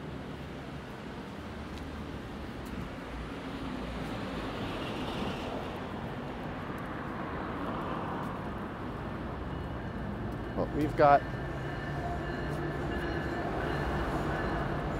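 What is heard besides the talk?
freight train rumbling by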